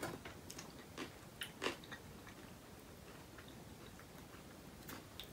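Crisp, irregular crunching bites from close by, a few louder snaps among softer chewing of a ready-made salad with large-cut potatoes, no talking.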